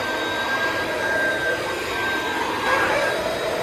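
A Dirt Devil vacuum cleaner runs on low speed with a steady, airy whine and a faint high whistle, holding level for the whole stretch, close to the listener.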